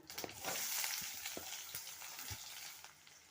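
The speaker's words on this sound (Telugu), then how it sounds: "హాఫ్ టేబుల్ స్పూన్ అండి ఆవాలు హాఫ్ టేబుల్ స్పూను జీలకర్ర ఆనియన్స్ వేస్తున్నానండి" Onions sizzle in hot oil with mustard and cumin seeds for a Nellore-style egg curry, a steady frying hiss broken by a few soft stirring knocks, close and moderately quiet.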